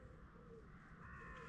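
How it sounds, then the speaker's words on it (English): Faint bird calls, including crow-like caws, carry over a quiet stretch of the River Dart beside Sharpham Vineyard, with soft background ambience and distant, low-level sound. "The only sound is the sound of birds"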